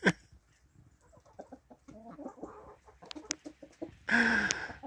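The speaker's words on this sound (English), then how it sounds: "crazy chickens" Several chickens clucking and cackling nearby, with scattered short calls building to a loud burst of squawking at the end.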